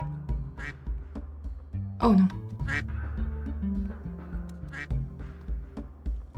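Quacking from a bird character in a Roblox obby game, several comic quacks over continuous game music, with a brief spoken exclamation from a player partway through.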